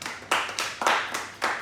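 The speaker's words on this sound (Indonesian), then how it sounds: "Yuk, tepuk tangan dulu ya." An audience at a housekeeping leadership training session claps in four short bursts of hand claps, fairly close and moderately loud, with no talking.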